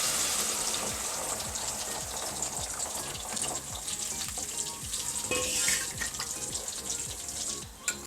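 Warm water poured into a pan of fried fish and eggplant curry, a steady gushing, bubbling hiss that runs continuously at close range with light sizzling beneath, no voices.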